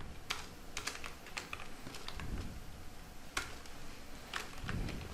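Close, quiet keystrokes on a computer keyboard come in short bursts with brief pauses, steady clicking with no talking.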